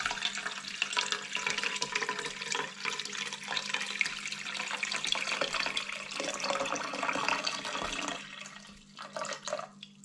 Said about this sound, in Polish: Woda leje z czajnika, ale ona jest zimna.